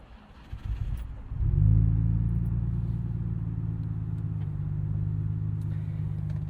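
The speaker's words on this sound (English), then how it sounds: "let's stick the key in and fire this thing up and go for a drive" A 1999 Nissan Skyline R34 GT-R engine cranks briefly, fires with a loud rumble around the one-and-a-half-second mark, then settles into a steady, deep idle, close and without talk.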